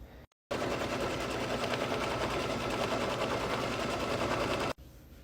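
An embroidery machine stitching fabric in the hoop while making a lined beach bag runs with a loud, steady, rapid mechanical chatter for about four seconds, then cuts off abruptly.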